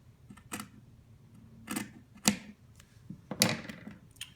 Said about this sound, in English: I'm going to cut my seam from my crotch